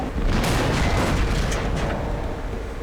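Tank cannon fire in World of Tanks from a Type 62 light tank on the Himmelsdorf map, a heavy booming blast with a rolling, rumbling tail that fills the whole stretch.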